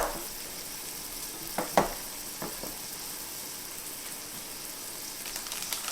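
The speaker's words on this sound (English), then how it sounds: "I'm going to pour it on here. And then I'm going to just kind of mix it all together" Steak fajita sizzling in a hot pan as butter is mixed in, a constant close crackling fry broken by a few sharp scraping stirs, with no talking.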